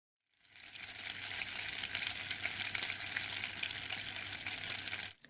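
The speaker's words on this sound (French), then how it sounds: "il a bien fondu, il est en train de dorer et de grésiller" Steady, bright sizzling of butter frying in a pan, continuous crackle with a low hum underneath, no voices.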